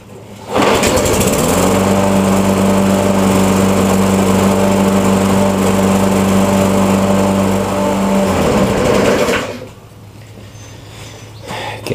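A Briggs & Stratton walk-behind lawn mower engine starts after refueling, catching quickly and running at a loud, steady high-pitched drone for about eight seconds before throttling down to a quieter idle.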